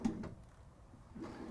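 A kitchen drawer in a 2019 Thor Four Winds motorhome opens and closes, giving two soft thuds, one at the start and another near the end, with a quiet pause between.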